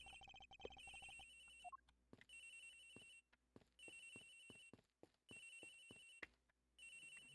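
Phone ringtone in the Ace Attorney Investigations video game, a repeating electronic ring in evenly spaced bursts with short clicks and pauses between, loud and clear with no talking.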